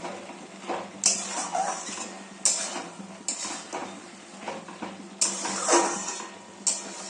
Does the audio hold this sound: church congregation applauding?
no